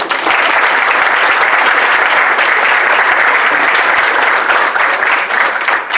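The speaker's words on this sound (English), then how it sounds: "Then why don't you give them some applause?" An audience claps loudly and continuously at a 2019 Equitable event, a dense, unbroken wash of applause that holds steady throughout.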